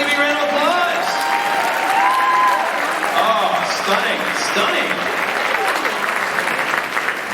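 An event audience applauds and cheers a raffle winner, a sustained dense clapping that carries throughout, with a nearby voice speaking over it.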